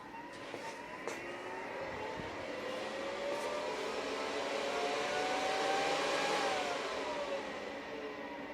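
A homemade CNC router spindle starts up and runs, its faint whirring tone rising and shifting in pitch over a continuous mechanical hum, with no talking.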